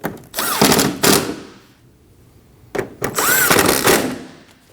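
Two bursts of rapid ratcheting ring out as a ratchet snugs 10mm bolts on the headlight bracket of a Ford Edge, each burst loud and close, separated by a short pause.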